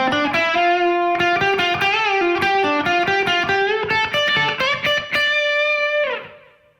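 Distorted electric guitar playing a fast solo phrase, a quick run of picked notes ending on a sustained tone that fades out, played alone with no talking.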